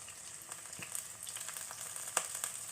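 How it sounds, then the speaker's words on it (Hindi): Green chillies frying in a pan for an Indian gooseberry and chilli recipe, a soft continuous crackling sizzle with scattered tiny pops and an occasional faint stir, quiet and without voices. "हरी मिर्चें हमारी भून चुकी हैं।"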